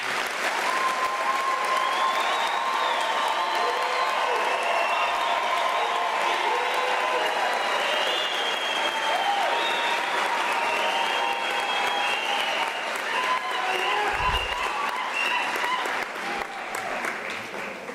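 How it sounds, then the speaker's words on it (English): A university graduation ceremony audience gives the graduates a long, steady round of applause, a dense wash of many hands clapping in a large hall that holds at a constant level, with faint crowd noise mixed in. "let us give the graduates a thunderous round of applause"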